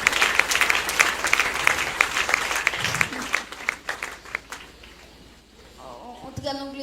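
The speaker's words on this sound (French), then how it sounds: "On va acclamer la parole de Dieu." A church congregation bursts into applause to acclaim the word of God, a dense sustained clapping that carries for several seconds under a voice before thinning out and fading.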